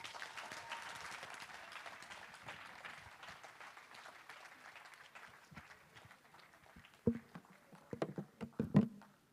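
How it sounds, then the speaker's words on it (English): An audience applauds after a student presentation, a broad wash of clapping that thins out over several seconds, ending in a few loud scattered claps and knocks close by. "Please, another round of applause"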